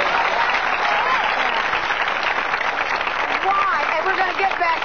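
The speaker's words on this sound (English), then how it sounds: "you applauded to that" Studio audience on a TV talk show applauding loudly and steadily, a dense wash of clapping that fills the whole stretch without letting up.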